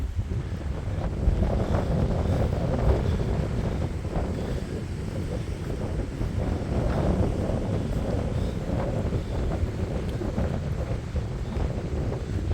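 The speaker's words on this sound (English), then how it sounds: "it is pouring straight in front of me" Heavy rain pours down in a severe thunderstorm, a steady, dense broadband roar with wind buffeting the microphone, continuous and loud for the whole stretch with no talking.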